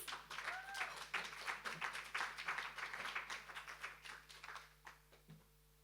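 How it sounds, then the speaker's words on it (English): Steady clapping from a crowd, dense and continuous, tapering off toward the end. "Please welcome him with a big warm round of applause"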